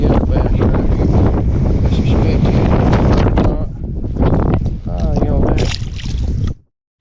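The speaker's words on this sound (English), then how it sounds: "Wind's about to blow us off of here." Strong wind on a lake bank during springtime crappie fishing, a loud, constant roar buffeting the microphone throughout before cutting off abruptly at the end.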